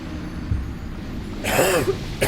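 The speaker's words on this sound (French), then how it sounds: "excusez-moi, je tousse" A couple of short, harsh coughs from a nearby person over a low background hum, the second burst briefer than the first.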